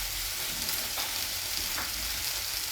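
Garlic dropped into a hot frying pan sizzles steadily and close by, a dense hiss with a couple of brief crackling bursts and no voices.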